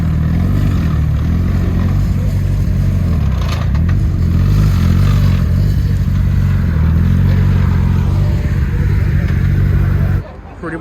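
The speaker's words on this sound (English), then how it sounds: "Listen to that clutch." A BAC Mono supercar idles and revs under its clutch at a supercar gathering at a McLaren dealership, a loud, steady low engine drone that holds for about ten seconds before cutting off, with crowd voices in the background.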